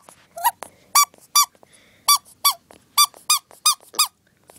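A squishy Moshi Monsters Squashy Moshy toy squeaks about a dozen times in quick, uneven bursts, each squeeze a sharp, high, close squeal separated by brief silences.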